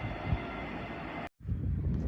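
A Class 802 train running past Colton Junction on the East Coast Main Line, a steady loud rumbling roar with wind buffeting, broken by a brief dropout before the rush resumes.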